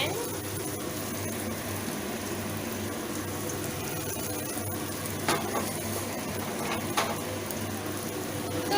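Hakka noodles stir-fry in an oiled pan with a continuous soft sizzle, broken by a few sharper clacks of utensil against pan, and no talking.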